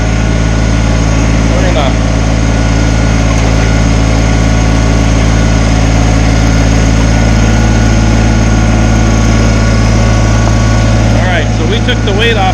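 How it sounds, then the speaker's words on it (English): A Kubota BX tractor engine runs steadily and loudly at raised throttle while its backhoe is lowered, a constant droning hum throughout with a few brief voice fragments over it. "I'm going to give this a little bit of throttle to do that"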